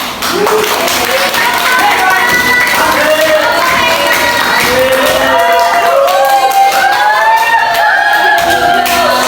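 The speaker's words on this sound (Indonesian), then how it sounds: "kita beri tepuk tangan" Clapping and cheering from a classroom group, dense and lively, with several voices talking and calling out over the claps throughout, fairly close and loud.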